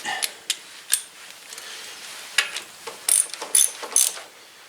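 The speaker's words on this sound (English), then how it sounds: "Ratchet." Socket ratchet clicking in short bursts while bolts are tightened on a Husqvarna Z254 riding mower, the pawl ticking close and crisp with pauses between turns.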